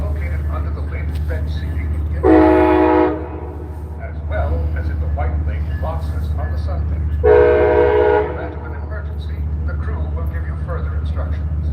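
Train horn sounding twice on a waterfront at a shipyard town near a ferry terminal, two sustained blasts of about a second each over steady low engine rumble, with people talking in between.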